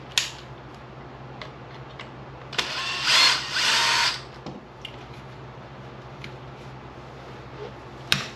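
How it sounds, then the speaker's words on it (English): A power drill bores out the rear pin hole on an Arrma Kraton RC car, whining loudly in a burst of about two seconds between quieter clicks and handling noises over a steady low hum. "we're going to go ahead and drill out the rear so that I can put a thicker pin"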